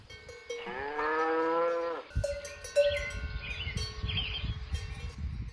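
A cow lets out one long, close moo, then a cowbell clanks and birds chirp softly in the background.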